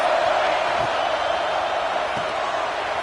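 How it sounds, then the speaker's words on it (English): Football stadium crowd roaring steadily throughout, a dense, loud sustained wall of cheering and noise with no pauses, at a college football game. "This crowd bringing the energy and noise early."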